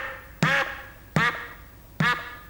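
Tom-tom pad of a 1984 electronic drum kit set to program 14, struck three times at an even pace about three-quarters of a second apart, each hit a short bright synthetic tone with a quick pitch drop, close and alone.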